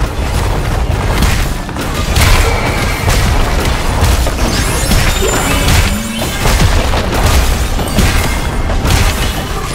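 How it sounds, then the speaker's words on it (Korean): In League of Legends, a turret is destroyed amid a loud, busy battle; heavy booms and crashing impacts pile up continuously with little letup. "빨간 팀의 포탑이 파괴되었습니다."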